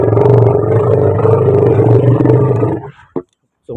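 A loud, close elephant call fills most of the clip as a sustained, rough roar, then breaks off into two short grunts separated by silence.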